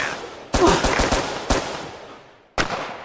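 Gunfire in the VR shooter Crisis Brigade: a loud burst of rapid shots, then a single crack and another shot after a short gap. Each report has a reverberant tail trailing off behind it.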